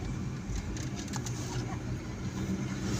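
A Mini Cooper under way in fifth gear, its engine and road noise forming a steady, continuous drone heard from inside the cabin, with no talk over it.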